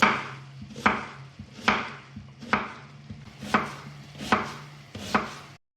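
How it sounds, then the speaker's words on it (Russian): An onion is chopped with a knife on a cutting board while meat browns nearby: seven evenly spaced, crisp thuds at a slow, steady pace, close and clear, with no talking. "Пока обжаривается мясо, нарежем лук"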